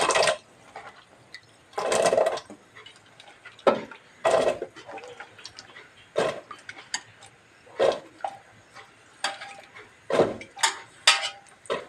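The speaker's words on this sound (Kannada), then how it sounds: "ಇವಾಗ ಕಟ್ ಮಾಡಿರೋಂಥ ಮುಳುಗಾಯಿನ ಆ ನೀರೊಳಗೆ ಹಾಕ್ತಾ ಇದ್ದೀನಿ" Cut brinjal pieces dropping into water in a kitchen, with repeated splashes and clattering plops at irregular intervals, fairly close and with no talk.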